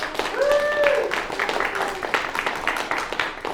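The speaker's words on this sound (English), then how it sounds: "let's give another big round of applause." Audience applause at an undergraduate performance showcase, a steady spatter of clapping through the whole stretch with a brief whistle or cheer near the start.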